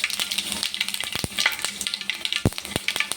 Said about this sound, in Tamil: கொஞ்சம் அடுப்பில் ஒரு பாத்திரத்தில் எண்ணெய் ஊற்றி வச்சுருக்கேன். நல்லெண்ணெய் யூஸ் பண்ணிங்கன்னா ரொம்ப நல்லது. அதில் கொஞ்சம் கடுகு ஆட் பண்ணிக்கிறேன்